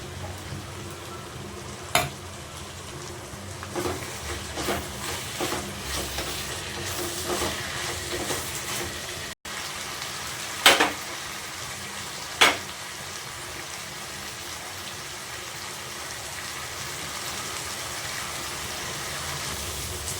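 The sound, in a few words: chopped tomatoes frying in a pan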